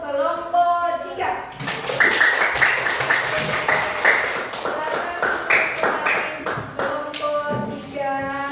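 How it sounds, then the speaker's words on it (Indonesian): Schoolchildren in a classroom clap together for a group that has just presented, a burst of many small hands in quick patter that lasts several seconds between adult speech before and after. "Kasih tepuk tangan untuk kelompok 3"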